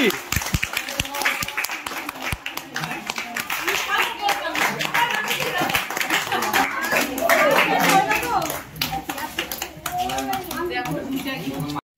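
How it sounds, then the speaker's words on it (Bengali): Loud, sustained clapping from a crowd greeting art competition winners at a result announcement, dense and steady throughout with voices mixed in underneath. "জোরে হাততালি।"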